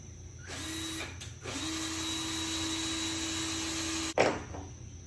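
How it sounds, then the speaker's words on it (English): A power drill pre-drills holes in wood for a mini picnic table, whirring in two runs, a short burst then a longer steady spin, ending with a sharp clunk. "I'm going to go ahead and pre-drill the holes."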